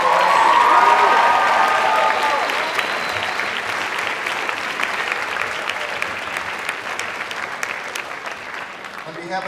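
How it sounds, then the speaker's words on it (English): An audience at a high school senior debate applauds the stage crew with sustained clapping, loudest at the start and gradually thinning, with faint crowd noise and a voice near the end. "Once again, a big round of applause, please, for stage crew"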